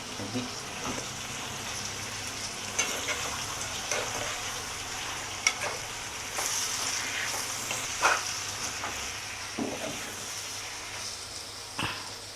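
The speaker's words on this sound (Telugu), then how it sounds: "ఒక్క స్పూను అల్లం వెల్లిగడ్డ పేస్ట్ వేసేసిన" Ginger garlic paste fries in a hot pan with egg and dried shrimp, giving a continuous dense sizzle with occasional stirring scrapes, close and fairly loud with no talking.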